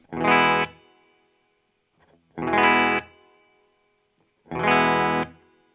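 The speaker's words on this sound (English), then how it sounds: "I've got the 335 now in the Laney and nothing going on, just the guitar through the pedalboard" An Epiphone ES-335 electric guitar runs through a pedalboard into a Laney amp with reverb. Three separate strummed chords ring out loud and close, and each one decays into a short reverb tail before the next.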